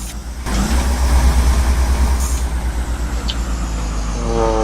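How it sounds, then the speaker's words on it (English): An IC school bus engine in the Rigs of Rods simulator runs with a loud, steady low drone and a faint pulsing throb, rising slightly as it revs, with a soft tone creeping in at the end. "Engine sounds again exactly the same."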